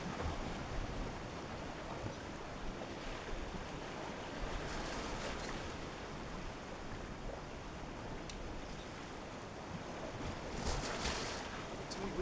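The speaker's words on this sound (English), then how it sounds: "we're at the Jetties in Texas" Steady wash of surf and wind at the Texas jetties, a constant broadband rush with light microphone buffeting and a few faint clicks, no clear voices over it.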